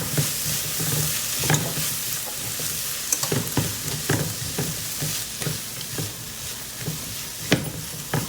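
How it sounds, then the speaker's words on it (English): Spices and garam masala being mixed in a one-pot Indian vegetable dish, a spoon scraping and tapping the pot in a steady rhythm of strokes over a close, constant sizzle. "First of all, I'm gonna go ahead and mix everything first."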